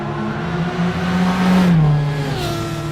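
Race cars lapping Bathurst in Gran Turismo 6 with a loud, close engine drone that climbs in pitch and swells in the middle before easing slightly, the tone sustained and steady with no talk.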